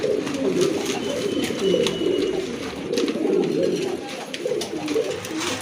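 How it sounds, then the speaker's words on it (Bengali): Lahori pigeons cooing repeatedly nearby, soft throaty calls overlapping in a busy, continuous chorus. "কত বড় এক জোড়া লাহরি কবুতর দুইটা ডিম সহ"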